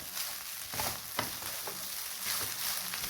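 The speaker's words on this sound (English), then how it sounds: "This is the fried rice sound. It's like sort of a cracking, like a cracking sound." Fried rice stirred in a pan crackles and sizzles steadily and quietly, with soft scraping strokes and small pops as it is turned.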